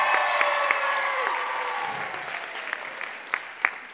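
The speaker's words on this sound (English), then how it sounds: "How about some applause for the 2 winners?" An audience at a 2019 talent show claps for the two winners, a dense, lively round of applause with a few sharper claps standing out as it begins to taper.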